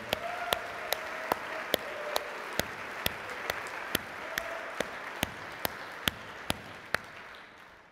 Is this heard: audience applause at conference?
yes